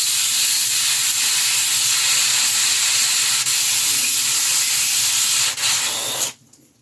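Airbrush spraying paint on a 1/6-scale Predator figure, a steady, close hiss running almost continuously before cutting off abruptly near the end.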